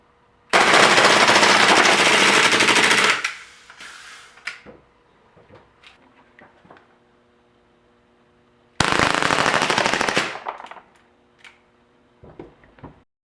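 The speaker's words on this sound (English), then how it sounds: "And now for some double-fisted shooting action." Two Crosman P1 air pistols fire full auto together in two long, loud, rapid mechanical bursts, each followed by quieter clicks and handling sounds.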